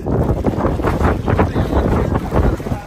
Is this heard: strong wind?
yes